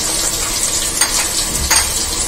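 A ground paste of coriander, cumin, turmeric, two green chillies and ginger hits frying vegetables in a home kitchen, setting off a loud, steady sizzle broken by a couple of sharp spoon scrapes.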